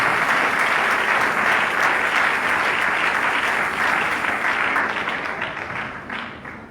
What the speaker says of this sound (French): nous acclamons pour la gloire de Dieu